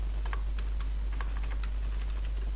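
Fingers tap out text on a computer keyboard in a short run of light, fairly even keystrokes, close but soft over a constant low electrical hum, with no talking.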